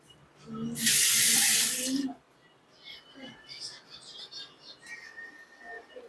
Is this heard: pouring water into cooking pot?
yes